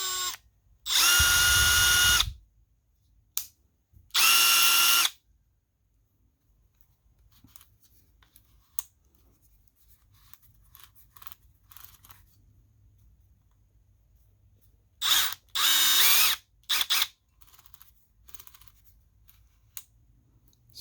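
A Milwaukee M12 Fuel installation driver runs in drill mode in three short, loud bursts of high motor whine, each a second or two long, separated by quiet handling clicks and small knocks.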